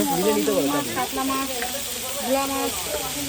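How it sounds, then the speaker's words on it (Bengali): Okra sizzles and hisses in hot oil, a steady crackle running underneath a couple of people chatting nearby. "ভেন্ডি ভাজা হচ্ছে"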